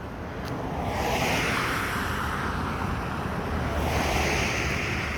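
Ocean waves surge and wash continuously at Hilo Bay, Hawaii, on a rainy day, a broad steady roar of surf with wind noise buffeting the microphone and two gentle swells in intensity.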